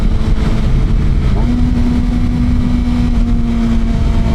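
A GSXR 750 motorcycle with a Yoshimura R77 full exhaust and Moore Mafia tune roars under acceleration in third gear, a loud, continuous engine drone with a rising tone over heavy wind rush.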